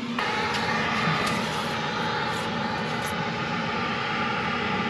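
A farm combine harvester engine runs at full throttle while cutting soybeans, a steady, loud, droning roar with a constant low rumble and a high whine, with no talk.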